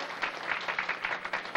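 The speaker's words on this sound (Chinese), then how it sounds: "谢谢，我们很需要这个掌声" An audience claps at the evening party of a New York cycling club, a dense round of applause that stays fairly steady with uneven bursts, heard from within the room and moderately quiet.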